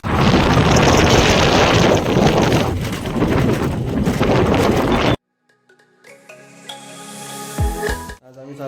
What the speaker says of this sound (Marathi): खूप वारा वाहतोय